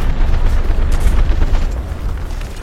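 Artillery fire lands in a tank video game, a loud close rumbling boom that rolls on and slowly fades, with no talking.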